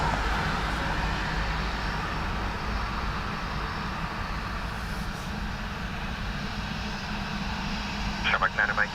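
Aircraft landing on runway 28 left at Dublin Airport in low visibility: a loud, steady broadband engine roar that holds for the whole stretch, with radio voices under it.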